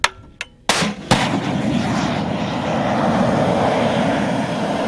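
An FGM-148 Javelin missile launches with a few sharp, loud bangs close by, then a rising, sustained rushing roar as the missile flies off toward its target, with no talking.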